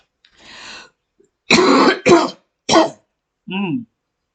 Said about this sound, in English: It falls in the back of my throat. It's annoying. So I cough.